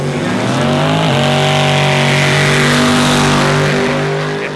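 A turbocharged LS-powered drag racing car launches hard off the line, its loud, sustained engine roar climbing steadily in pitch with a brief gear change, close and alone without talk.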